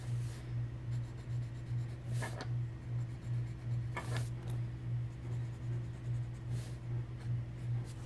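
Steady scratching of a pencil on a paper journal page, soft strokes repeating with a few sharper taps, under a constant low electrical hum and with no speech.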